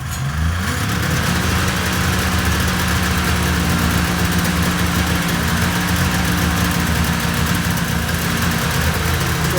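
A 1996 XLT triple engine, pull-started with no choke, catches within the first second and settles into a loud, steady, somewhat high idle with a rough, throbbing hum close by.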